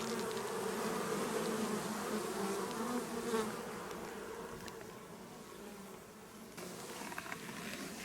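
Honeybees from strong, heavily populated hive colonies being readied for winter, a dense continuous buzzing hum, steady and close throughout with no talk.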